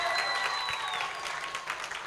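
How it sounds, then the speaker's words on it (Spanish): A circus audience applauds in a dense, steady patter of many hands, moderately distant and filling the space, while a high whistle-like tone sounds briefly over the clapping. "A ver, un aplauso más fuerte."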